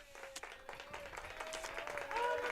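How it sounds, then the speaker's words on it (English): A high school baseball team claps it up in the first-base dugout at the Nottingham Northstars game: a scattered, faint patter of hand claps heard from a distance, with crowd murmur and a thin tone in the background. "North Stars dugout on the first base side, claps it up"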